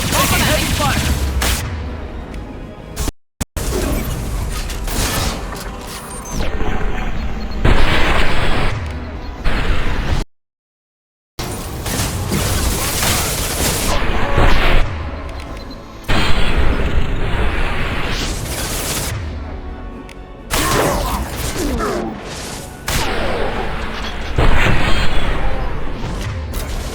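Combat in Mass Effect 2, with gunfire and explosions on Insanity difficulty: dense, loud, continuous bursts and booms, briefly cut by two short silences, with voices speaking over the battle.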